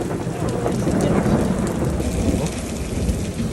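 A thunderstorm with heavy rain or hail pounds steadily and loudly on nearby surfaces under a continuous low thunder rumble, with no voices.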